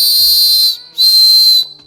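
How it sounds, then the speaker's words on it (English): A small survival-kit whistle gives two loud, shrill blasts, each under a second, separated by a brief gap, with no talking. "The whistle works."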